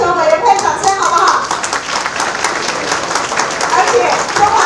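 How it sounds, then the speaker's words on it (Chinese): An audience at a community sports awards ceremony claps for the golf committee, a loud, dense burst of applause close by that carries on steadily with a few voices in the crowd. "我们是不是给高尔夫球委员会掌声好不好"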